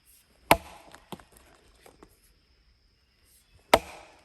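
A heavy Arvika 5 Star chopping axe strikes wood in two sharp, loud impacts a few seconds apart, with a few smaller knocks and taps between them in a quiet outdoor setting.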